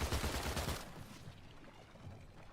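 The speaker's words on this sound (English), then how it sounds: "this precision charge rifle is just breaking that shield off in one shot every time" A precision charge rifle fires in the Marathon video game. A dense, loud burst of shots rattles for under a second, then fades into a low, lingering rumble with no talk.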